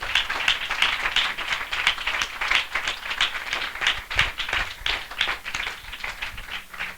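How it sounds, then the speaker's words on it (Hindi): A church congregation gathered for a spiritual assembly gives a loud, sustained round of clapping in welcome, a dense, fluttering rhythm of many hands that holds steady throughout without speech. "हम जोरदार ताली से उनका स्वागत करें"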